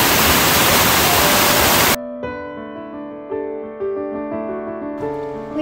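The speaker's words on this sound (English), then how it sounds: "And here is a beautiful waterfall." A waterfall on the Pacific Crest Trail roars as a loud, dense rush of falling water for about two seconds, then cuts off abruptly into soft instrumental music.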